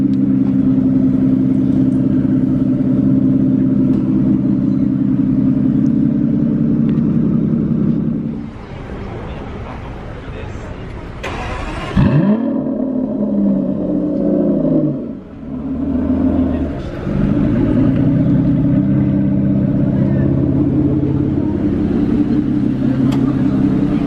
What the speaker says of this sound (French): les valves se sont ouvertes d'un coup là